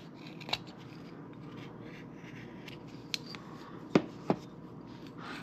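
A knife carves a small wooden comfort bird with faint, close scraping and shaving strokes over a quiet background, punctuated by a few sharp clicks and snaps.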